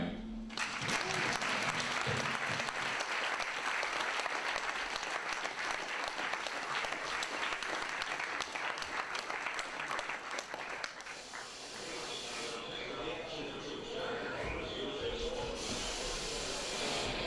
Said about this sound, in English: give an applause to Jesper Hoffmeyer.